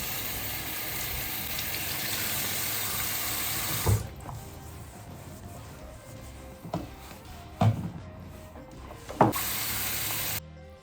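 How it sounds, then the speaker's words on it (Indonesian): Running water flows into a bathroom sink during cleaning as a steady wash. It then cuts off, leaving a quieter room broken by a few sharp knocks and clunks. "So, kita harus membersihkan ini wastafel."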